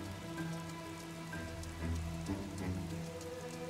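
Steady rain hiss from the Bee Movie Game on the Wii, a continuous broadband patter with a low background hum and faint game tones, no talking.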